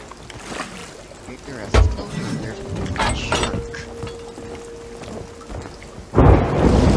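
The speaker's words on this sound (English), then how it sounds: "We're in the middle of a storm" A thunderstorm with rain in the Sea of Thieves pirate game: a constant wash of rain and wind, with deep thunder rumbles bursting in near the start and again loudly at the end.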